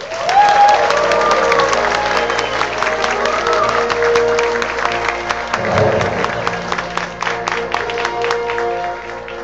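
Audience clapping and cheering at a live event, a dense sustained burst of applause that is loud at first, with a voice briefly audible and claps thinning toward the end.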